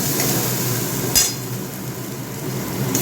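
Spices sizzling in hot oil in a pan, a steady soft frying hiss with a single metallic clink partway through.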